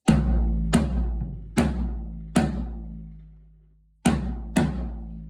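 A freshly tuned Tama Starclassic Performer 16-inch floor tom is hit six times, each booming stroke ringing out and decaying, with one longer ring left to fade before two more hits close together.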